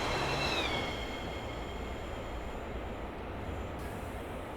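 A scheduled service train rolls along the Wiener Neustadt to Graz route in Train Simulator 2021, a steady rumble of wheels on track with high squealing tones fading early on, continuous and close, no talking.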